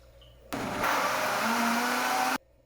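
Kitchen blender whirring loudly as it blends an anti-inflammatory juice with added water, starting abruptly, running steadily at high speed for about two seconds, then cutting off sharply.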